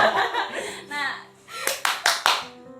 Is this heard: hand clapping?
yes